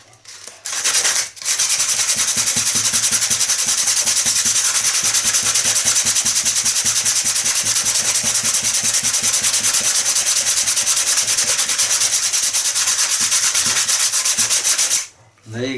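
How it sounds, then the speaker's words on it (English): Close, loud back-and-forth sanding with 80-grit sandpaper on a cyanoacrylate-glued crash repair of an Acrowot XL model airplane, a steady rapid rasping that runs for about fourteen seconds. "Sandpaper, 80 grain."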